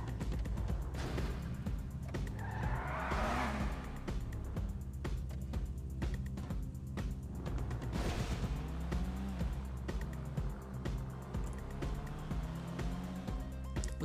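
A Felon GT sports car drives in GTA 5, its engine droning and shifting pitch with tire skids and impacts layered over steady game music, moderately loud and continuous.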